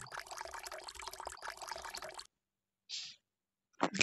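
Character peeing in the Pikabuu video game: a steady, fairly loud pouring stream of liquid runs for about two seconds, then stops, followed by a couple of brief splashy bursts.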